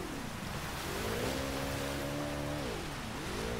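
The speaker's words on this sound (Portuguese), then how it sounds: "Vamos pegar o jet ski de novo, só porque eu amo andar de jet ski." A jet ski skims across a river in the video game Uncharted: Drake's Fortune Remastered, its engine droning and shifting pitch as it speeds up and eases off over splashing water, close and steady.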